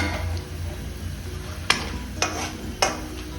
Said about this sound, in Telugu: ఈ 1/2 కేజీ వంకాయలు కొంచెం చక్కగా మగ్గిపోతున్నాయి చూసారా